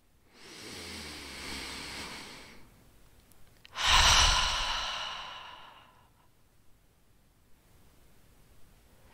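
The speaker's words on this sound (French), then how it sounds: "en prenant une grande expiration et en expirant profondément par la bouche" A soft drawn breath, then a deep, forceful exhale through the mouth, close and alone, fading into quiet.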